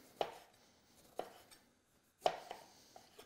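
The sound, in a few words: slicing a lime with a knife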